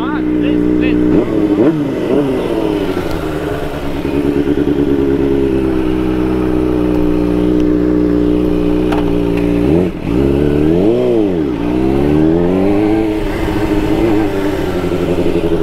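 A Suzuki GSX 600 motorcycle engine, fuel-injected, idles and revs loudly up close, with a steady harmonic drone and several rising-and-falling throttle blips, the revs dropping off slowly.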